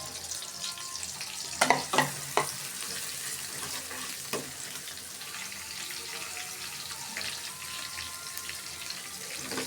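Onion paste or spring onion sizzles in a hot pan for a taki fish curry, a steady frying hiss throughout with a few louder clanks and stirring scrapes early on.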